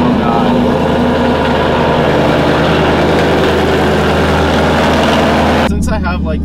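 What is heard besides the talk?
car engine cold start, idling loudly in garage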